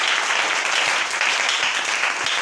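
A church congregation breaks into dense, sustained applause, many hands clapping together in a loud, even roar that fills the room without pause.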